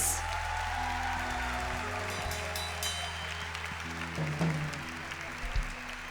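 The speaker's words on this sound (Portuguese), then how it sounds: "Dê uma grande salva de palmas a Jesus." A church congregation at a consecration service gives a hand of applause: a dense wash of clapping over sustained keyboard or organ chords and low musical tones. It fades and thins toward the end, with no clear speech.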